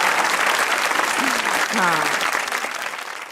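A studio audience at a Pakistani comedy talk show breaks into steady, full applause that tapers off toward the end, with a short spoken word over the clapping.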